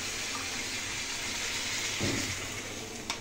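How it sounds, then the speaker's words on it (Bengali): Water poured into a pot of browned chicken curry with leg pieces, a steady broadband rush of liquid running throughout, close and moderately loud, ending in a brief splash near the end. "এবার একটু এর মধ্যে জল দিয়ে দিচ্ছি"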